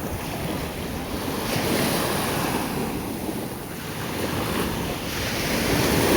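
Continuous surging waves at a wave pool, a loud, broad wash of water churning up close with gusts of wind buffeting the microphone and no voices.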